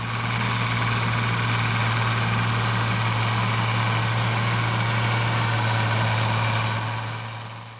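A 1971 Ford 7000 tractor's heavy diesel engine idles steadily with a deep, constant low hum and rattle throughout, close and loud.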